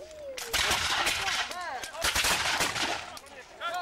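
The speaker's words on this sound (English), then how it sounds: "they'll probably be switching from ram shot, solid iron cannonballs, to the more murderous and effective grape shot, firing dozens of small musket balls in one blast from the cannon mouth" Black-powder cannon and musket fire at a multi-period battle reenactment, with dense booming blasts and crackling volleys that overlap through the whole clip, some whistling sounds, and faint voices underneath.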